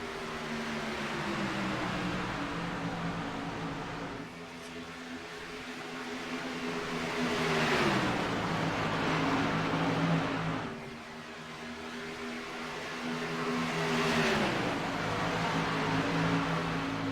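NASCAR Xfinity race cars circling the track at Atlanta: engines drone steadily from a distance and swell as the pack passes, with pitch shifts marking each pass and no voices over them.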